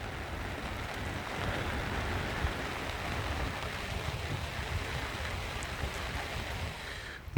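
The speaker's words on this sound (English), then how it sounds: "You can probably hear that it's raining" Steady rain falling on a wild camp in the desert along the Al Qudra route near Dubai, a continuous soft broadband patter with low rumble, moderately faint and uninterrupted, no voices.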